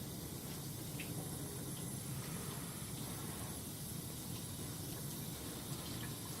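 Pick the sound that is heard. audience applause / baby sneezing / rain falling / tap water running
tap water running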